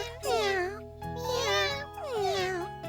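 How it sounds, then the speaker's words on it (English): Cartoon kittens give three drawn-out, high, wavering meows in a row, each about half a second to a second long. The meows are clear and up front with a faint hum beneath. "Maybe I better just take these mischievous little kittens back home where they belong."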